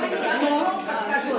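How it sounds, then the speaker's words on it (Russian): A small bell rings briefly at a group event, heard amid a steady wash of room noise and voices. "Где колокольчик?"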